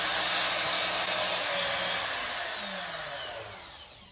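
A DeWalt DW616 router runs on an MLCS RSC-20 variable speed control, giving a loud, steady high-pitched whine that eases slightly lower and quieter toward the end.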